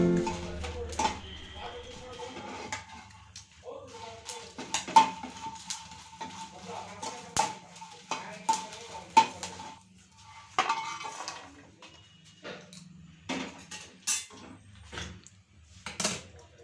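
Green chillies and garlic frying in a pan, with a spoon clinking and scraping against metal in irregular taps over a faint sizzle, while a person talks throughout.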